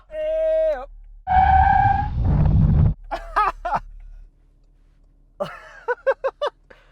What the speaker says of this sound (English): full emergency stop, see which car stops in the shortest distance